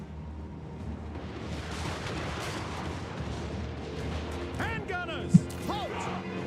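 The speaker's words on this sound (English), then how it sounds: "And that means we've got towers shooting now." Defensive towers on the city walls firing during a Warhammer 3 siege battle, a steady rumble of artillery and gunfire thuds under constant battle noise, with someone narrating throughout.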